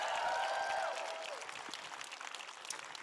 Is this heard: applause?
yes